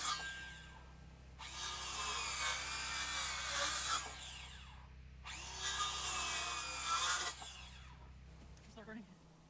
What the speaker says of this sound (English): now he's screwing the bottom one into the post.